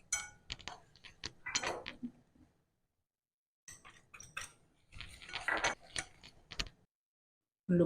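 Seafood cutlet ingredients of shrimp, fish, potato, egg, corn flour, chili and coriander are mixed in a bowl, giving soft, irregular clinks and squishy stirring in two bursts separated by a brief silence.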